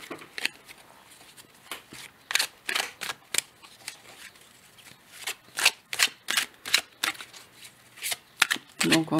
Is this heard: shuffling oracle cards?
yes